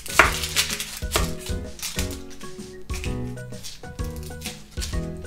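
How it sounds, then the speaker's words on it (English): A knife chops onions into small pieces, giving a steady rhythm of crisp taps against the cutting board over tonal background music. "And then let's cut up the onions."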